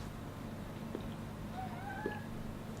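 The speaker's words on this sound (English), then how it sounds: "Go away cat, go away cat," A cat meows twice, faint and a little distant, with soft rising calls against a quiet room hum and no talk.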